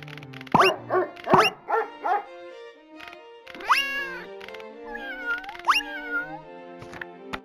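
A cat meows several times in a children's story app sound effect, preceded by a few short dog barks; the meows are clear and close, with no talking.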